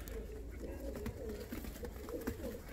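Show posta pigeons, a pair of parents with four chicks, coo softly in low repeated rolling calls, faint and close under a muffled background hum.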